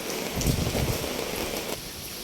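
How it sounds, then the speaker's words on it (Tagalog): Heavy rain pours steadily during a typhoon, a dense hiss of drops on surfaces with gusty wind adding surges of noise; no voices over it. "Maulan na umaga mga idol"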